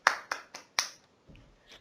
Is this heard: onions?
no